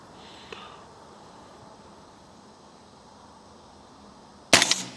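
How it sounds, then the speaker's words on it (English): A 300 Blackout rifle carrying a DNT Optics HYDRA HS650R thermal scope is fired while zeroing outdoors. After a quiet stretch with one small tick, a single sharp, loud shot cracks close by near the end. "Let me go ahead, shoot another one to see what happens."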